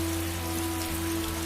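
Steady rain falling in a cartoon story, an even hiss of drops over a low constant hum, brief and uninterrupted.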